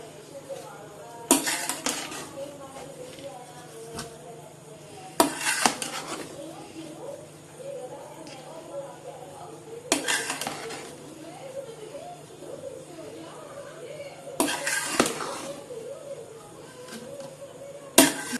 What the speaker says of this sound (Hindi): ये बिरयानी हिलाने का जो है, मैं आपको मिक्स करने का ये तरीका बता रही हूँ।